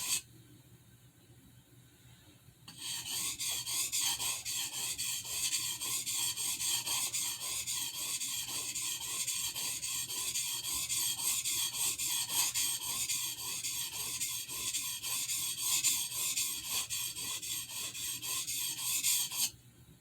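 A knife blade is sharpened on a cheap Amazon water stone, starting after a short quiet moment with close, rapid, rhythmic rasping strokes that continue evenly, then stop abruptly.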